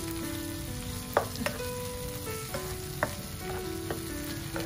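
Shrimp fries in a pan with garlic butter, chili flakes and curry leaves, a steady soft sizzle broken by a few sharp clicks of the spoon as it is stirred.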